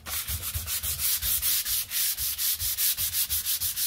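Hand sanding of wood on a floating shelf: fast, even back-and-forth strokes of sandpaper, each a close rasping whoosh in a steady rhythm of about five per second, with no talking.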